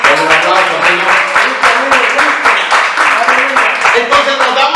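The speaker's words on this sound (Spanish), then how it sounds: "Dale un aplauso, Señor." Congregation applauding during a Spanish-language church sermon, a loud, steady wash of clapping with a voice speaking over it throughout.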